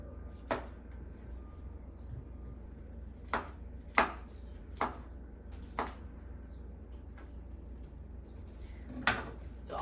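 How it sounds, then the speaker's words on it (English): A kitchen knife slices through mushrooms on a cutting board, leaving about eight sharp separate chops with uneven gaps between them, close and clear over quiet background. "So I got 10 mushrooms here, and we're just going to chop them."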